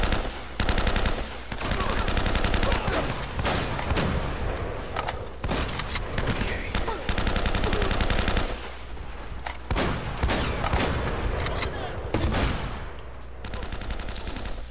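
Rapid automatic gunfire from enemies in the Uncharted video game, dense sustained bursts with brief gaps, loud and close throughout, with no talking over it.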